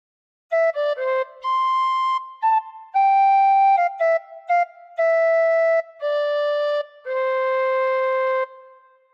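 Tin whistle playing a phrase of Joy to the World, a string of clear, bright sustained notes with short breaths between them, close and alone with no talking.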